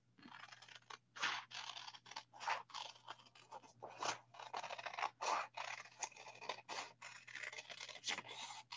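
Scissors cut through a folded sheet of paper in a long series of close, crisp snips and scraping crunches, in irregular rhythm over a faint steady hum, with no talking.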